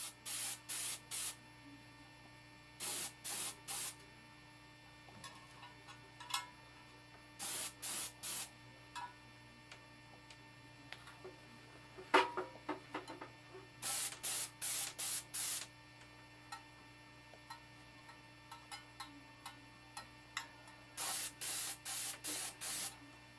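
DuraCoat is sprayed onto an AR-15 magazine in a series of short, sharp hissing bursts, each lasting about a second, with pauses and small clicks and handling noises between passes, all close and fairly quiet.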